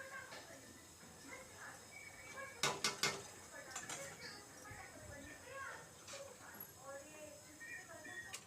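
A cooking pot holding bottle gourd cooked with chana dal is handled and lifted off a stove, giving a few sharp metallic clinks and scrapes against quiet kitchen background, with someone speaking around the clatter.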